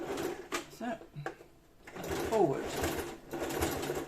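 Sewing machine stitching a fabric seam for a bottle carrier, running in short bursts that stop and restart while a person talks over it, with a brief pause of near quiet in the middle.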